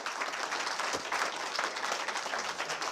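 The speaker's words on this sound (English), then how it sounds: "Let's have a round of applause for her, folks." An audience at a talk on conspiracy history breaks into sustained applause, a dense, even wash of many hands clapping that continues without pause and without talking.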